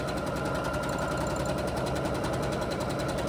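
A sewing machine stitching steadily during free-motion quilting, a fast, even mechanical whir with a rapid needle rhythm, close and continuous with no pauses or voices.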